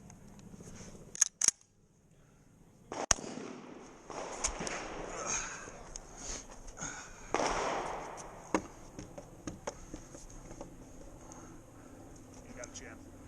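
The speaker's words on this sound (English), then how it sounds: "I'm shooting with no sights" Shotgun blasts at an action shotgun match, a few sharp cracks scattered through the clip, one pair fired close together early on, with people talking around them at moderate distance.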